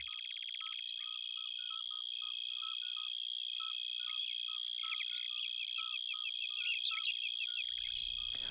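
Bush crickets among the leaves of bushes and clematis give rapid, regular high-pitched chirps, steady and fairly close, with a thin sustained trill throughout and no voices.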